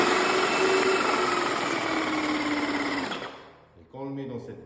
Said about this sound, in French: si on le bascule vers le bas, on va purger tout ce qui est dans la machine